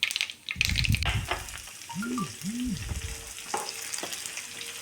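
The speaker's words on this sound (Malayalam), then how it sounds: "ഉലുവയും കടുകും പൊട്ടട്ടെ." Fenugreek and mustard seeds splutter in hot oil for a mango-date pickle, giving a steady close sizzle with scattered crackles and pops, plus a few clattering stirs and clinks of a utensil against the pan.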